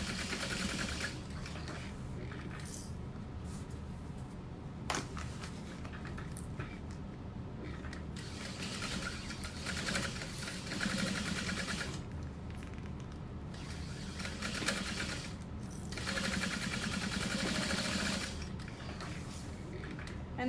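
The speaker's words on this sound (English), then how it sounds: "now we're gonna top stitch. I'm gonna go pretty close to that edge" A sewing machine top stitches close to the edge of a handbag, running in close-up bursts of rapid mechanical stitching separated by brief pauses.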